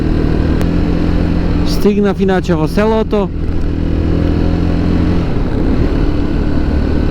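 A motorcycle ridden on a rough gravel track into a village in Georgia, a loud, constant engine drone heard close from the rider's position, with wind rush and a voice speaking over it.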